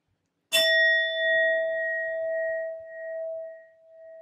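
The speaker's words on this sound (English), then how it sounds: "I'll be using my sound bowl to clear and set the energy" Singing sound bowl struck once, a bright metallic strike followed by a long sustained ringing tone that slowly pulses and fades, alone in a quiet room.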